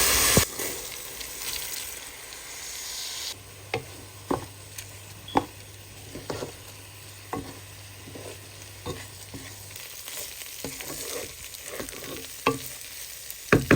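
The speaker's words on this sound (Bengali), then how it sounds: "আদা রসুন বাটা দিলাম।" Ginger-garlic paste frying in a pan for duck khichuri, a low steady sizzle broken by a series of sharp, evenly spaced spatula taps close by.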